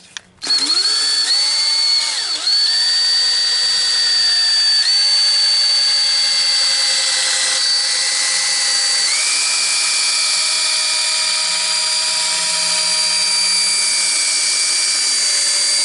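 A power tool runs steadily while polishing a Toyota Sequoia headlight with a restore kit, a loud continuous whine close by whose pitch dips and shifts a few times as pressure changes, with no talk.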